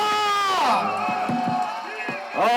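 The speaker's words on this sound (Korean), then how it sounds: "여러분 큰 박수와 함성 부탁드립니다." A crowd at an outdoor protest rally in Incheon against the Fukushima wastewater discharge cheers and shouts, with loud, sustained vocal calls and whoops rising and falling near the front. Little distinct clapping stands out.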